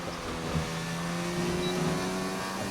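Engine note of a Formula 1-style race car in a German Grand Prix racing video game, a steady droning tone rising slightly in pitch as the car sets off on a lap, continuous and fairly quiet with no talk.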